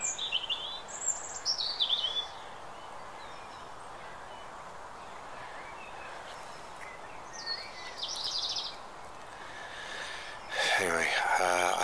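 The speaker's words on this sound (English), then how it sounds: "Listening to birds." Birds chirp and tweet intermittently in an open outdoor space on a mountain, with soft breathy sounds near the microphone and a louder burst of calls near the end.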